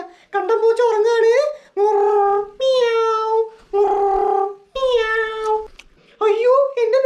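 A cat meows repeatedly in loud, drawn-out, rising and falling cries, close to the microphone, with short pauses between calls.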